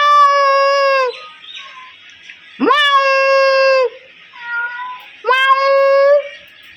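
A cat meows three times, loud and close, each cry a drawn-out tonal wail with quiet gaps between, and no one speaks.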